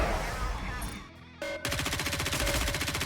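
Rapid bursts of gunfire from Red Hood's burst skill in the NIKKE game, a dense fast rattle that starts after a brief pause and keeps going, loud and close.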